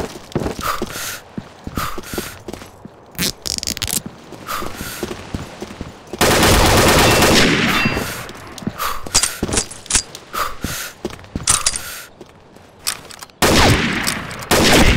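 Repeated gunfire in CA Waverider gameplay, with bursts of shots and a sustained rattling volley in the middle and again near the end, loud and close, with no talk.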